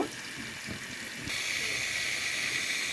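Spiced fish fries in hot oil in a pan, giving a steady, close hiss of sizzling that swells slightly louder partway through and continues without pause.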